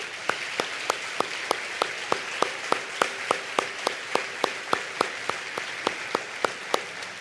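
An audience claps together in a steady, even rhythm, sharp beats repeating about three times a second over a faint crowd hum.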